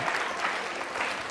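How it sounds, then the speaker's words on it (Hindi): Audience applause for a student at a school quiz show, a short, even patter of clapping from a sizeable crowd, fairly loud and steady throughout. "तालियां बजाइए इस बच्ची के लिए आप।"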